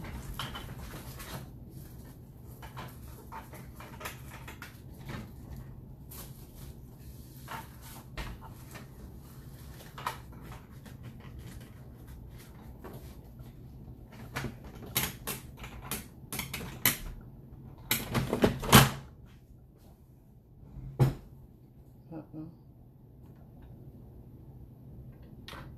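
A home printer feeds custom tissue paper, with faint mechanical clicks and ticks building into a cluster of louder whirring, clattering bursts midway before settling back down.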